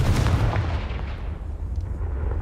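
Confringo blasting spell in the video game Hogwarts Legacy, a loud booming blast followed by a rumbling, fading roar.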